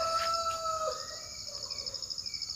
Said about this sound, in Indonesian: Suara burung elang.